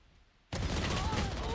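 Gunfire in a Valorant match bursts in suddenly after near-silence, a dense, loud stretch of rapid shots with a rising ability or effect tone, under a caster's commentary.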